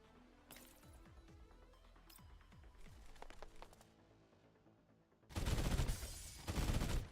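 Hacked turrets in Girls Frontline 2: Exilium open fire in bursts of sharp gunshots, with a loud sustained volley near the end over game sounds.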